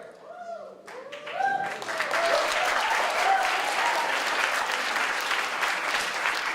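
Loud, rapturous applause from a debating competition audience after a keynote speech. It swells from a few tonal sounds into a dense, sustained wash of many clapping hands with voices mixed in.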